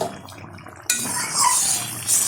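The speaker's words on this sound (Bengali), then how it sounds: "ঢাকনাটা তুলে দিচ্ছি" A metal lid comes off a cooking pot of simmering potato, pointed gourd and prawn curry, giving a sudden clatter followed by a steady bright hiss and bubbling of steam and liquid, close and moderately loud.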